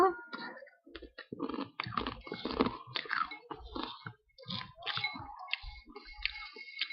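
Close, crisp crunching and biting on a crunchy ramyeonttang fried noodle snack, irregular bursts of chewing one after another with short pauses, no talking.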